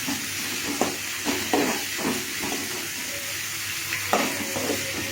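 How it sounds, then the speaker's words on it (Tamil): Onions sauté in a pan with mustard seeds, green chilies and dal for a tomato curry, producing a bright continuous sizzle broken by repeated close spatula scrapes and stirs, with no voices. "நல்லா கலர் வர வரல வதக்கினா தான் வெங்காயம் நல்லா வேகும்."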